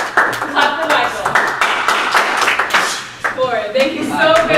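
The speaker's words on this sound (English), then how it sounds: "Clap for Michael." Audience at a short-form improv comedy show clapping to vote for one performer, a moderate burst of applause mixed with cheers and voices, rising again near the end.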